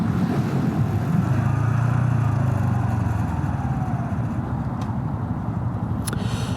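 A truck engine runs steadily while driving, a loud sustained low rumble with road noise close by, no talking, easing a little toward the end.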